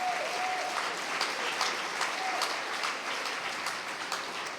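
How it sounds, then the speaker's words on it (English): Steady applause from a sizeable audience, dense and continuous throughout with no talking over it. "That deserves a round of applause."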